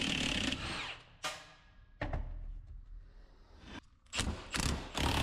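Removing the front output yoke from an NP241C transfer case during a 1990 Suburban drivetrain teardown: several sharp impact-tool bursts and clanks separated by pauses, close and loud, no talk.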